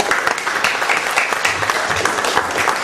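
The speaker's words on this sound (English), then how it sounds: "Give yourself a clap." An audience at a Thanksgiving Day church service clapping, dense continuous applause that stays steady and fairly loud throughout.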